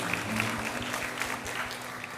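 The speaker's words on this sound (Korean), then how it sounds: "우리가 갈 길을 밝히 보이시고 평안을 주신 주님께 영광의 박수 올리도록 하겠습니다." A church congregation at a Sunday morning Methodist service claps in a steady, moderately loud round of applause that carries from start to end, with no speech over it.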